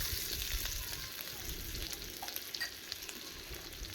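Grated ginger and chopped green chilli fry in hot oil in a pan for paneer kofta curry, a steady close sizzle with soft crackles and occasional stirring scrapes.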